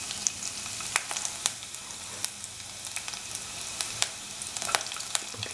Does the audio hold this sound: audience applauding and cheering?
no